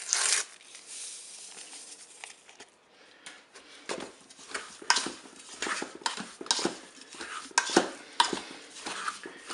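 Spoon stirring apricot jam with vanilla sugar in a Cookeo cooker, heard as a series of close scraping and clinking strokes against the pot, irregular and moderately loud, with no talk.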